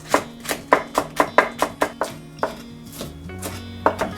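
A knife chops green onion coarsely on a cutting board, about a dozen crisp, close taps in a steady rhythm that slows and thins out toward the end, with faint background music.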